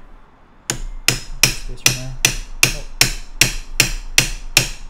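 During a tire swap on an Inmotion V11 electric unicycle, after a quiet start, about a dozen sharp hammer blows land at a steady, even pace, close by, with a brief voice in between.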